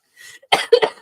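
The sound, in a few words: person coughing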